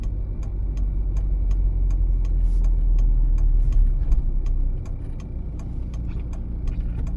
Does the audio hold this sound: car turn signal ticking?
yes